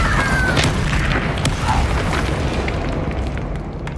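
A Confringo blasting spell explodes in the video game Hogwarts Legacy, a loud booming blast that rumbles and fades over several seconds, with no voice over it.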